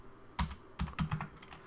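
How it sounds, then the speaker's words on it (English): Keystrokes on a computer keyboard while a command-line playbook is entered, a quick uneven cluster of close, crisp clicks with brief pauses between bursts. "now we'll type in our Ansible playbook"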